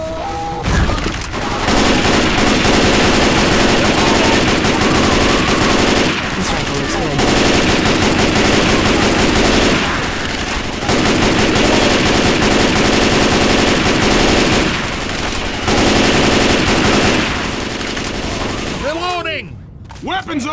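Rapid automatic gunfire in the zombie shooter game Left 4 Dead, loud and close, in long sustained bursts separated by short pauses, with a voice talking briefly near the end.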